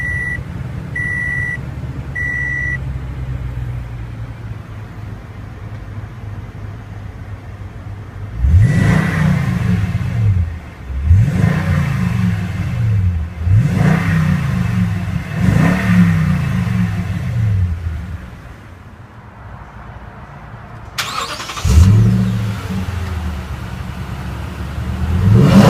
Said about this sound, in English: Now let's jump into the driver's seat, start it up and see how it sounds.